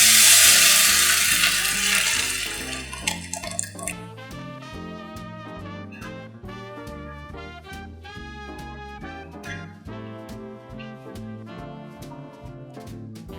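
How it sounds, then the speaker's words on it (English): Chilies and spices frying in a pan for a Kerala-style buttermilk curry, with a loud hiss at the start that settles into a steady sizzle while the spoon stirs and scrapes at a regular pace. "Stir the mixture until the chilies turn bright red."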